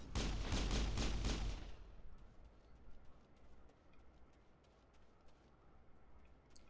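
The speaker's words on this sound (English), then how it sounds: "I'm just gonna gun this one down." A rapid burst of loud gunfire from a video game fills the opening two seconds, then gives way to quiet ambient background with faint clicks.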